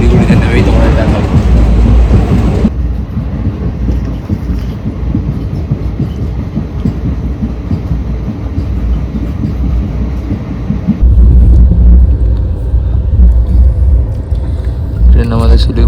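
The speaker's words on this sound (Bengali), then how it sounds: "ট্রেন আমাদের শিলিগুড়ি জাংশন প্রবেশ করছে।" Train pulling into Siliguri Junction station, a loud low rumble and rattle of the carriages running continuously, with voices and cabin noise mixed in.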